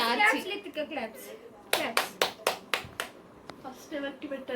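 Several people clap together at a birthday cake cutting, a quick run of about seven sharp, evenly spaced claps mid-clip, with chatter and voices before and after.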